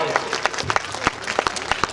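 At a comedy poetry show, the audience breaks into a short burst of clapping, with uneven sharp claps heard under a voice speaking over them.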